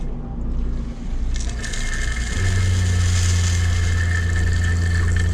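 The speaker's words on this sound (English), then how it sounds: "I think the water pump is on." A steady mechanical hum kicks in as the water pump of a 2011 Thor Four Winds Hurricane 32A RV starts, settling into a continuous droning whir with a hissy rushing layer, loud and close.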